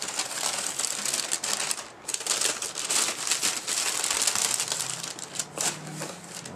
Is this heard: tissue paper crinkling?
yes